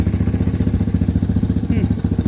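A trike's small engine idles steadily nearby, its loud, even chugging pulsing rhythmically without a break.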